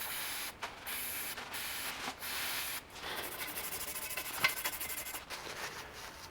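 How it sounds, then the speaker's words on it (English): A small brass wire brush scrubs the threads of a Toyota Landcruiser tie rod, giving steady, close scratchy rasping in short repeated bursts with brief pauses between strokes. "So I'm going to take my small brass wire brush."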